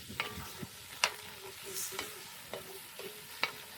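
Four garlic cloves fry in a pot over a campfire while beef stew is being made, with a steady low sizzle and several sharp scrapes and clinks as the pan is stirred at irregular intervals.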